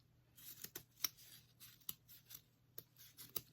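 Scissors cutting and trimming a small craft bow, a series of short crisp snips and paper rustles at an irregular pace, close and quiet with no talk.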